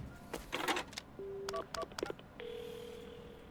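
Touch-tone keypad beeps in the Paranormasight video game as a phone dials an ambulance, with a few quick tones followed by a steady ringing tone and soft clicks.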